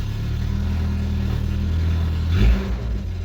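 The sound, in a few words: Toyota Tacoma engine with straight pipe exhaust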